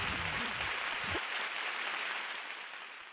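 Canned applause played from a sound-effect button at an online music tribute event, a brief burst of clapping that fades gradually, with a voice briefly heard at the start.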